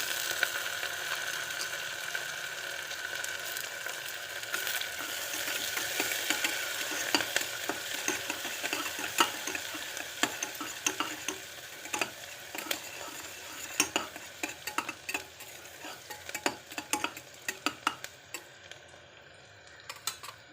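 Onion, green chili, mint, coriander and curry leaves sauté in oil for seeraga samba coconut milk rice: a constant sizzle under frequent quick clinks and scrapes of a spoon against the pan.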